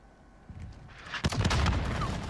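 Shotgun fire in Call of Duty Modern Warfare, a hardcore-mode Origin 12 shotgun match: a soft thump early on, then a louder close blast at mid-clip followed by a sustained rumbling, crackling tail.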